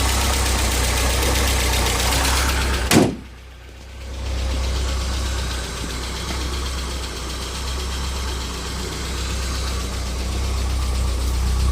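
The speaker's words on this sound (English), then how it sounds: "Now it's idling a little better." A 1987 Volkswagen Jetta engine that needs a motor mount idles with a steady low rumble and vibration, briefly dips after a sharp thump near the start, then settles back into an even idle.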